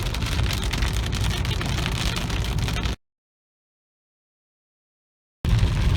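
Big raindrops from a monsoon thunderstorm near Victorville and Lucerne Valley, California, drum on a car windshield in a steady loud hiss. The sound cuts out briefly midway, then returns.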